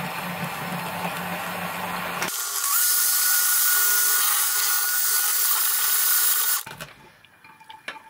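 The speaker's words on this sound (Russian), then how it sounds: "Включаем миксер. Миксером я буду работать ручным, так как будет водяная баня." An electric hand mixer whips egg whites with sugar, its loud, steady high whine running for several seconds before it cuts off to quiet clinks.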